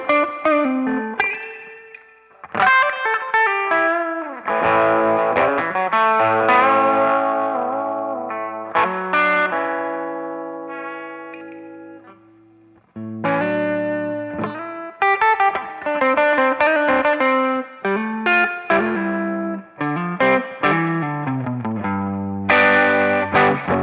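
Electric guitar played through a pedalboard of effects in an indie rock rig, giving a mid-focused bluesy tone: a run of picked notes and chord stabs with light chorus and echo, clear and close with no talking.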